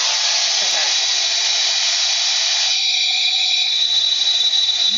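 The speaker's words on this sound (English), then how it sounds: "Thought for a minute that my hair dryer tapped out on me." A hair dryer blows with a steady, loud airy whine close by, its pitch shifting slightly partway through as the airflow changes.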